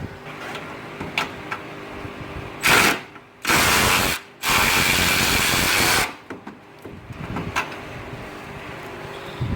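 Ratchet wrench working a 13mm bolt while pulling the engine from a 2002 Ford F-350 with the 7.3 Powerstroke diesel, heard as faint clicking broken by a few loud bursts of mechanical noise.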